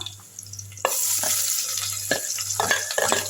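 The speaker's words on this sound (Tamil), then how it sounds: "அடுத்து பச்சை மிளகா நல்லா வதக்கி விட்டுருங்க" Green chillies sizzle and sauté in hot oil in a pan, a loud steady frying hiss that swells at once, with scraping stir strokes at intervals and a low hum underneath.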